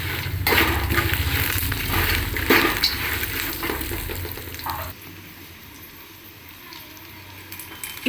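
Turmeric and salt stirred into a sizzling oil tempering in a pan, loud crackling fry with scraping stirs that settles into a quieter sizzle halfway through.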